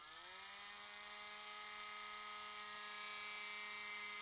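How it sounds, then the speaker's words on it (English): A small power drill whirs steadily through a plastic toy dinosaur's ankle during a repair, a continuous high whine rising slightly in pitch as it spins up, close and alone. "We're going to drill that hole again."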